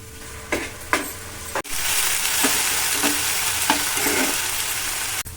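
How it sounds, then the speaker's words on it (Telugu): Ginger-garlic paste fries with soy sauce and tomato sauce in a pan, a loud continuous sizzle that surges after a sharp knock, with a few clinks of stirring. "అందులోకి సోయా సాస్, టమాటా సాస్ వేసుకొని ఇలా ఫ్రై చేసుకోవాలి"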